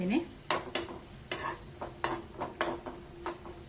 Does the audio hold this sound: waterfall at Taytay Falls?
no